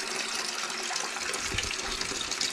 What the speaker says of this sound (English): Little bilge pump in there, no speed regulator or anything.